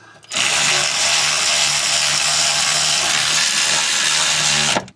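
Brake caliper bolts on a 2017 Mazda 3 being run in with a power tool, a loud close continuous whir lasting about four and a half seconds that starts and stops abruptly.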